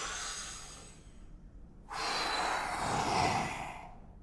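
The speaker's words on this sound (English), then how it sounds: "breathe out, exhale" A long, soft exhale through the mouth during a morning breathing exercise, a steady airy rush lasting a couple of seconds after a brief pause, close and quiet with no talking.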